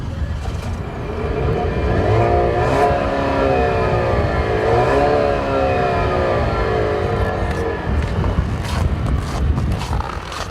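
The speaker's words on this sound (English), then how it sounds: "this car doesn't have the best exhaust note. It sounds a little bit like a vacuum cleaner." A small turbocharged four-cylinder car engine, vacuum-cleaner-like, revs up and pulls hard, its droning tone climbing and dipping through the gears, loud and close, ending with a few clicks.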